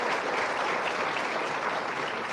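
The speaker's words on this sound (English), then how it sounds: "I would like to hear the applause if yes or no" A studio audience applauding, dense steady clapping filling the whole moment, loud and close, with no break.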